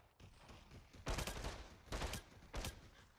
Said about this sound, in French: Waouh, pistolet mitrailleur.